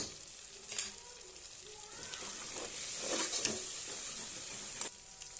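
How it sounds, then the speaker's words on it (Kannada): Coriander and mint leaves fry in a pan for a sambar, giving a steady soft sizzle with a few stirring scrapes and brief louder crackles throughout. "ಸ್ವಲ್ಪ ಹಾಕಿ ಫ್ರೈ ಮಾಡ್ತಾಯಿದ್ದೀನಿ"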